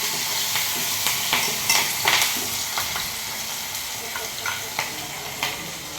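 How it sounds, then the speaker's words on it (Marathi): Mustard seeds and spices crackling and sizzling in hot oil in a pan while a Konkani-style wild mushroom curry is being made, with steady frying hiss punctuated by sharp popping bursts, close and continuous with no talking. "इकडे फोडणी दिले आईने"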